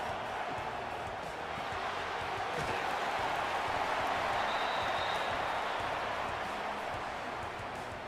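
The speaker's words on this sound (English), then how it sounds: "Claps a lot." An audience at a live EA college football and Madden reveal event claps continuously, a steady wash of applause that stays even for about eight seconds, heard at a moderate distance without clear speech.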